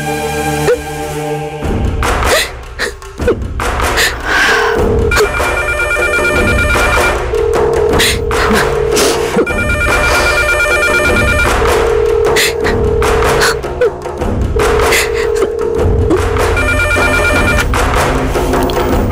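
A telephone rings repeatedly in a domestic TV drama scene, bursts of electronic bell tones in a steady rhythm, loud and close, mixed with background music and thumps.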